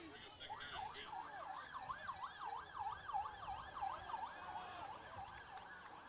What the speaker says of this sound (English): I saw there's been ambulances behind the Eagle Pavilion back here for a while